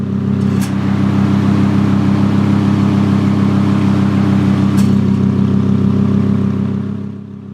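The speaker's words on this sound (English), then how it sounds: "If you listen closely, you can hear the bypass valve open and close with the respective sound changes between Strada and" Lamborghini Huracán LP610 engine idling steadily with a low, even exhaust rumble, loud and close, with brief sharp clicks near the start and again later as the exhaust bypass valve opens and closes.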